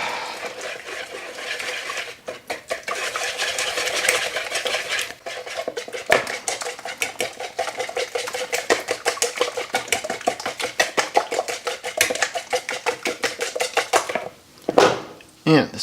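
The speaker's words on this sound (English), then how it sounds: "So I'm going to whisk this all together" A whisk clatters rapidly and rhythmically against a bowl while eggs are beaten into a mixture for bread dough, with brief pauses and a final few scattered taps.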